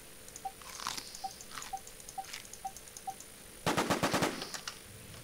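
Rapid bursts of enemy gunfire in a PvP shooter game: a steady series of short ticking shots, then a loud, dense volley of cracking rounds near the end, with no talk.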